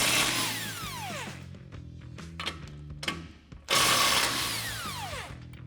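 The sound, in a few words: 18mm socket ratchet removing strut nuts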